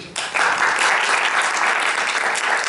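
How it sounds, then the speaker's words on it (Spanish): Audience applause bursts out for a speaker at a student conference on humanism and literature, rising after a brief quiet start into steady, dense clapping that fills the room with no talk over it. "Un fuerte aplauso."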